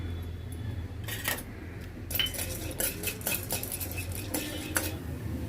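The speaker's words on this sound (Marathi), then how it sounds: "आता आपण चण्याची डाळ भाजून घेऊया" Chana dal is dry-roasted in a pan for curry leaf chutney. A metal spatula scrapes and clinks against the pan in irregular bursts over a low background hum, and no one speaks.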